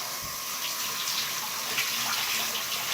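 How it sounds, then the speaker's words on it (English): Water runs steadily from a tap, splashing as shampoo is rinsed out of dyed hair. The sound is close and continuous, with no voices. "now we wash the shampoo out."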